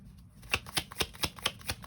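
Tarot cards being shuffled in a quick, even rhythm of about eight crisp riffling snaps, close and clear with no talking.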